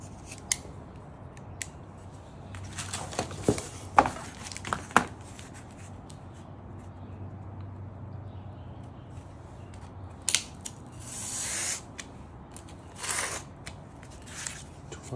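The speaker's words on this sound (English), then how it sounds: "I'm going to cut this out." Scissors cutting material for a wooden step stool for a 1937 Pierce Arrow Travelodge trailer, with several sharp snipping bursts and crisp blade closures close to the mic, scattered among quieter handling noise.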